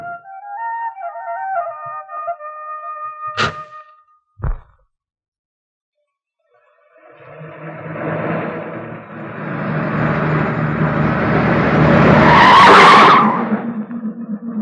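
In a Malayalam film scene, a car skids past recklessly after a short musical sting and a pause, its tires screeching in a long rising whoosh that peaks loudly, then trails off.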